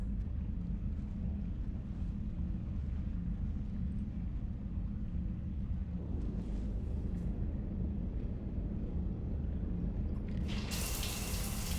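Shower water runs steadily in the video game Mass Effect, a continuous broadband hiss that stays loud and even throughout, with a brighter splash of spray near the end.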